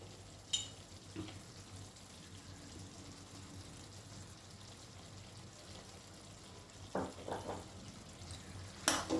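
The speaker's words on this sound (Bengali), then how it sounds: "ভালো করে একটু মিশিয়ে নিচ্ছি" Ash gourd cooking with a drizzle of mustard oil is mixed in a pan, giving a soft, steady sizzle with occasional scraping and stirring clatters, louder near the end.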